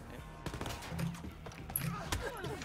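Gunfire in Wolfenstein: Youngblood, a handful of sharp, fairly quiet shots scattered across a few seconds, with a player talking over them.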